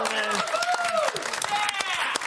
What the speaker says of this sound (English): Let's give them all a round of applause, gentlemen.